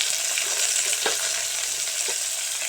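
Chopped tomatoes sizzling in hot oil in a pan for mushroom biryani, a dense continuous frying hiss with a couple of brief stirring knocks, close up.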